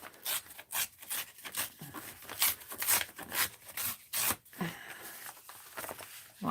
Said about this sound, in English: So let's tear it a little more.